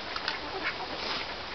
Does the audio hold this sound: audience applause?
no